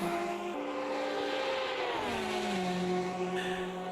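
A GTE race car engine in a sim racing video game, droning steadily with shifting pitch, one tone sliding downward as another holds, constant and fairly loud with no talk.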